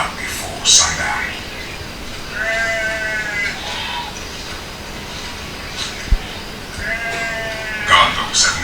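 Sheep bleating in a high-altitude setting, the animals set to be enclosed behind a flimsy net before sundown; two clear bleats with harmonics rise about five seconds apart over a steady outdoor background, with faint whisper-like sounds in between.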